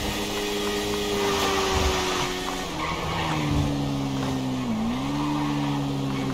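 A Suzuki GSX 1000R superbike engine in GTA 5 whines high and steady at top speed, with the pitch dipping and climbing again, under rushing wind noise. Nobody speaks.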